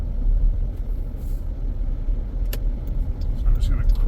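A Jeep engine runs smoothly while driving, a steady low rumble with road noise throughout, close and continuous, with no stutter or misfire.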